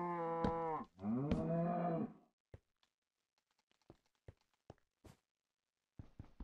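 A Minecraft cow gives two loud, close moos with rich harmonic tones in the first two seconds, followed by scattered soft clicks and taps from game actions.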